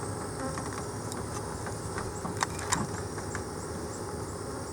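Honey bees swarm around a frame of fresh comb, their dense, steady buzzing filling the air close by, with a few brief louder ticks and bumps near the middle.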